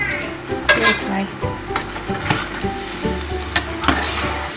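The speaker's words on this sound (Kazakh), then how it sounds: "май жақсы қызған болса, өте жылдам қуырылады" Manti (qoshan) dumplings fry in plenty of hot oil, a loud, close, continuous sizzle with occasional stirring and utensil scrapes against the pan, no talking.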